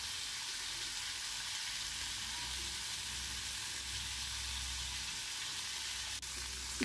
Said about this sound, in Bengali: শিমটা প্রথমেই হালকা একটু নাড়াচাড়া করে নেব।